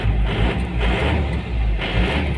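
An Isuzu Panther LS 2000 diesel engine runs with a loud, dense, continuous rumble, its gruff clatter pulsing slightly, close by with no talking.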